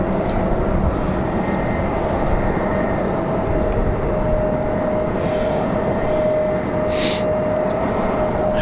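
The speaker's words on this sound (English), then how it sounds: "The Alaska Airlines from Seattle," An Alaska Airlines jet from Seattle in UNCF livery, at Raleigh-Durham airport on a windy day, gives off a steady, loud broadband roar with a faint sustained tone running throughout, and no voices are heard.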